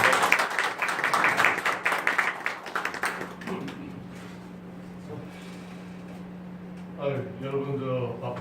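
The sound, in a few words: audience applause welcoming lecturer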